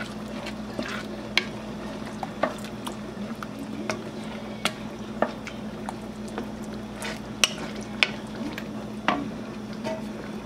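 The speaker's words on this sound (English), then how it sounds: "I'm just going to mix everything in" Lasagna meat sauce mixed with tomato puree is stirred in a pot, giving a quiet, steady wet churning with soft clicks of the spoon scattered through the stirring.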